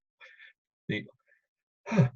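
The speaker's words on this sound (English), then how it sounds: "Half hiccup, half yawn there." A person's odd involuntary vocal noise, half hiccup and half yawn, rises as a short breathy burst near the mic after two faint earlier vocal sounds, with quiet pauses between them.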